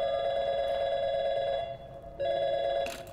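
A telephone in the video game Portal 2 rings with a steady electronic warbling tone, loud and continuous, pausing briefly before ringing again, with no voices over it.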